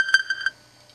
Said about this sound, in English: That noise you hear is actually my Twitter.